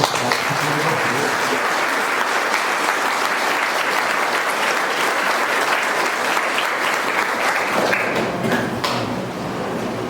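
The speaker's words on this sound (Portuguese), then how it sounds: "Uma salva de palmas." Sustained applause from a church audience at a Taquaral gathering fills the space, dense and steady for about eight seconds before thinning slightly at the end.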